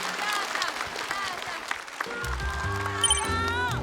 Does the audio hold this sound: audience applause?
yes